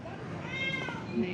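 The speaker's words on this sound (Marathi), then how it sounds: "मनीमाऊ पण ओरडते ऐकू येईल तुम्हाला मध्ये मध्ये आवाज" A street cat meows in a single drawn-out call indoors near a home entrance, fairly faint and brief against a noisy room background with low household sounds.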